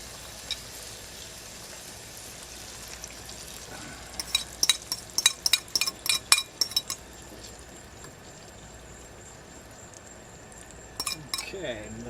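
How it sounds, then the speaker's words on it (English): Eggs going into a pan of lobster pieces for breakfast: a quiet sizzle, then a quick run of metallic clinks and scrapes from a utensil against the pan, with a few more later. "So we're going to go ahead and throw the eggs in now."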